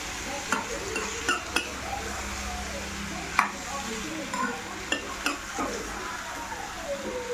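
Telangana-style eggplant and small fish curry is stirred in a pan over medium flame, giving a soft simmering hiss broken by regular light clicks and scrapes of a spoon against the pan.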